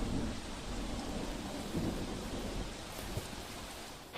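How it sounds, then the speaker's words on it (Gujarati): Heavy monsoon rain falls on Ahmedabad in a steady, dense roar, with low rumbling thunder beneath it and no voices. "અમદાવાદમાં વહેલી સવારથી મુશળધાર વરસાદ પડી રહ્યો છે"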